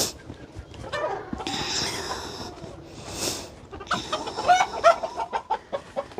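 Silkie chickens cluck in a spring coop with soft, scattered, murmuring clucks and a few sharper calls near the end, close by and with faint rustling.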